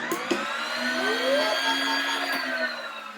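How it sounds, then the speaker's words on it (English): A Bosch or WonderMix kitchen stand mixer churns dough with a steady, close motor whir and a faint rising tone, running alone without any voices. "We're going to mix it for a second."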